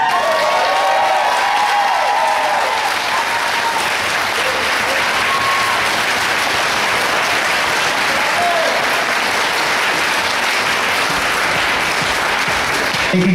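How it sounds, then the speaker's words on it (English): A large audience gives sustained, loud applause with some cheering for Hall of Fame inductees at a martial arts Grand Slam Open Nationals event, a dense roar of clapping that holds steady throughout with faint voices mixed in. "Give them one more round of applause"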